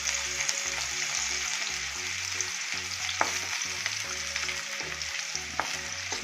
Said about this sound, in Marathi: मस्त असा भाजून घेऊ आपण.